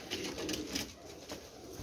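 Pigeons coo softly in repeated throaty phrases, fairly faint and close, with a hissy background and no talk.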